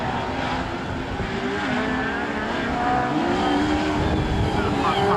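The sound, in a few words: autograss race cars racing on dirt track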